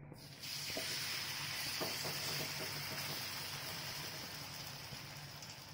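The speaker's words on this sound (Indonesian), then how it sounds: "saya proses ya penggorengan bakwan" Bakwan vegetable fritters frying in a pan of hot oil give a steady, close sizzling hiss that holds evenly throughout, with no voices.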